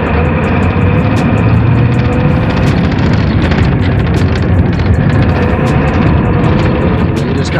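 A manual car's engine roars loudly and steadily as the car accelerates through the gears. It is a dense, continuous drone heard from inside or very near the vehicle, with no clear break and no voices.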